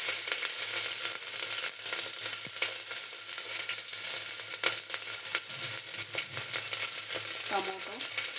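Mustard seeds and curry leaves sizzle in hot oil for a curry, giving a loud, continuous frying hiss with popping crackles and stirring scrapes. A brief voice is heard near the end.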